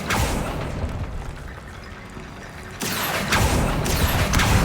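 Bombarda explosion spell cast in Hogwarts Legacy: a deep rumbling blast with crackling debris, then a second booming burst that stays loud and sustained to the end.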